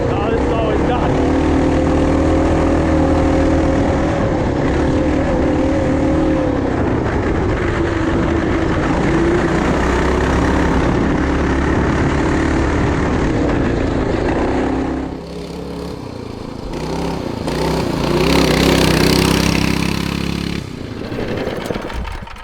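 Coleman mini bike powered by a swapped-in Tillotson 212 engine runs loud and steady, holding a dense droning roar before the pitch shifts and rises near the end as it revs.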